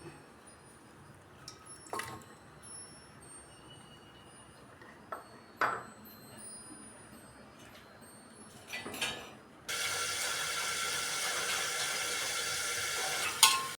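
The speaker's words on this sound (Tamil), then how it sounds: "இந்த தக்காளியை வந்து அந்த எண்ணெயில் போட்டு நல்லா வதக்கிக்கணும்" Tomatoes sautéing in hot oil: quiet at first with a few clinks and taps, then a loud, steady frying hiss that takes over for the last few seconds, close by.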